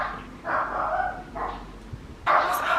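A dog barking in repeated bursts, with three or four loud, whiny barks and yips over background noise, some near and sharp, and no speech over them.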